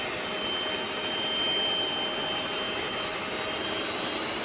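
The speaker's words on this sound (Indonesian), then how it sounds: "Sambil terus di mixer supaya tercampur dengan baik, ya." An electric hand mixer beats milk cheese tart batter with sweetened condensed milk, giving a steady, close motor whir that holds evenly throughout with no talking.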